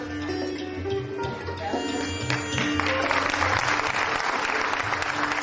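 A school audience breaks into applause to welcome teachers, clapping swelling from scattered claps into a dense, steady roar over a sustained tonal hum in the room.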